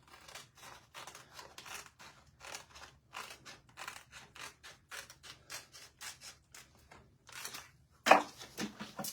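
Scissors cutting through a furniture transfer sheet, a quiet series of rhythmic crisp snips close by with a sharper crunch near the end.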